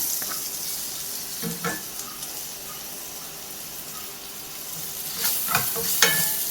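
Chopped medium onion sautéing with curry leaves in a pan for homemade chicken curry, a soft steady sizzle broken by a few clattering stirs, close and fairly quiet.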